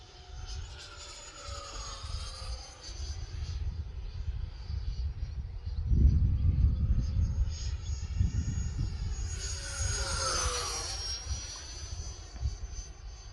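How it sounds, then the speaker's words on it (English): A Freewing Stinger 64mm EDF RC jet flies at half throttle, its steady ducted-fan whine rising and falling in pitch as it passes close by, loudest around the middle and with a sharp high-pitched sweep as it banks past. "really, it's a great flying airplane at half throttle"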